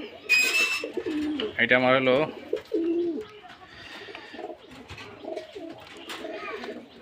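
Rajshahi giribaz pigeons, two pairs kept in a coop, give low coos among brief higher calls as someone speaks nearby and other faint voices and sounds come through.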